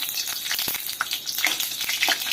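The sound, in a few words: bay leaves frying in hot oil in a kadai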